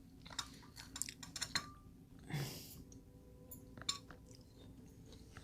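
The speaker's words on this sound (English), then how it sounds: "Might as well chew these." Soft, close chewing with small crunches and clicks, quiet and irregular, accompanied by a brief rustle partway through.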